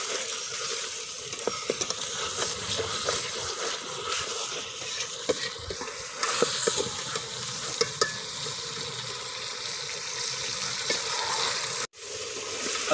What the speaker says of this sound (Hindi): अब अच्छी तरह इसको फ्राई करेंगे।